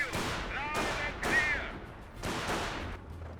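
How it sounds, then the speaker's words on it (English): Suppressive machine-gun fire in the Company of Heroes real-time strategy game, heard as several spaced, fairly loud bursts of rattling shots with distant booms beneath, while a voice comments over them. "He does use suppressive fire there."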